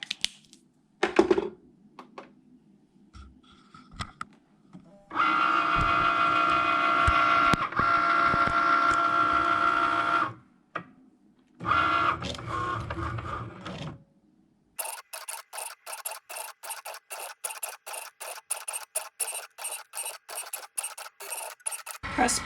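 A Cricut Maker cutting machine draws on card with a metallic pen, giving bursts of steady mechanical whirring separated by pauses, then a rapid rhythmic ticking of the carriage moving back and forth, close and loud with no talking.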